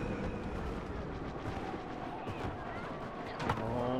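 Dense blaster fire in a Star Wars Battlefront skirmish battle, a steady barrage of shots mixed with battlefield noise, loud and continuous, with a sharper burst near the end.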